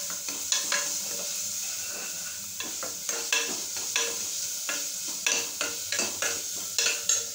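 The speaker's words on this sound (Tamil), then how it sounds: "இப்போ தக்காளி கரியாமல் பொன்னிறமாக இதை நல்லா வதக்கணும்." Tomatoes sautéing in a pan for white mutton kurma, with a steady sizzle broken by repeated scraping strokes of a spoon stirring against the pan, close and moderately quiet.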